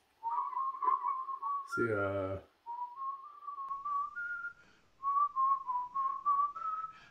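A person whistles a wavering tune in several phrases, interrupted by a short spoken word, during a tabletop Warhammer Kill Team game; the whistle is close and clear over a quiet background.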